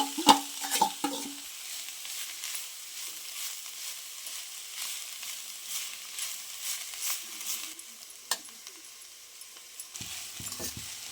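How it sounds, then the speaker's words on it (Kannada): Grated bottle gourd fries in a pan for halwa, with a few scraping stirs at the start, then a soft continuous sizzle and occasional light scrapes, quiet and with no talking. "ತುರಿದ ಹಾಲುಗುಂಬಳಕಾಯಿ ಹಾಕಿ ಒಂದು 2 ನಿಮಿಷ ಫ್ರೈ ಮಾಡಬೇಕಿದೆ."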